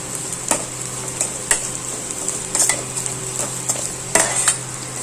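Onions sautéing with salt in a pan, a steady sizzle punctuated by spoon taps and scrapes against the metal every second or so, close and alone.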